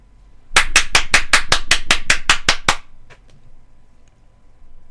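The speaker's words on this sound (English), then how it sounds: "Give yourselves a round of applause." A small audience gives a short burst of about a dozen sharp, evenly spaced claps that sound almost like a single pair of hands, stopping abruptly after roughly two seconds, followed by quiet room tone.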